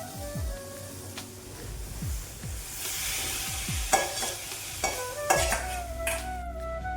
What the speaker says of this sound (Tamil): நல்லா வதங்கி வந்துடுச்சு